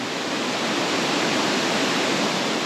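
Minnehaha Falls in Lakemont roars as a steady, dense broadband rush of falling water, loud and unbroken from start to finish with no voices.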